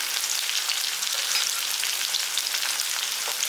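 Green chillies, curry leaves and dried red chillies sizzle in hot oil, a steady close crackling hiss with no talking.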